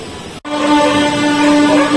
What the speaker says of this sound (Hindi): फिलहाल ट्रेन हमारी निकल गई है